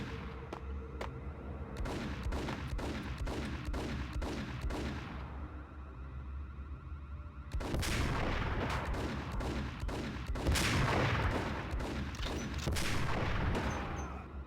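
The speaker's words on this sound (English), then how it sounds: "someone's shooting at me" Enemy gunfire in the Max Payne video game, a run of sharp repeated shots in bursts, then heavier and denser firing with booms in the second half, loud and close with no talk.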